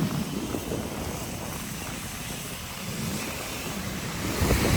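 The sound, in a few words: heavy rain near the Marikina River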